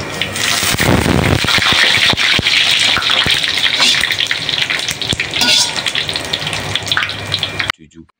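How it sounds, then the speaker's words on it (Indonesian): Loud, steady hissing and crackling of hot oil frying chicken, with sharp pops of spattering from leftover water throughout, stopping abruptly near the end. "Jadi ceritanya di situ masih ada air, makanya kekerecekan."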